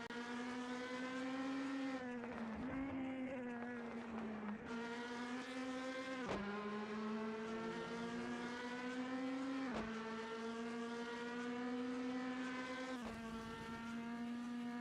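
Classic DTM race cars in a SimSpeed sim-racing qualifying session scream through the Vidal chicane, a sustained high engine whine dropping at each downshift and climbing again, about five braking and acceleration cycles, loud and steady with no voices.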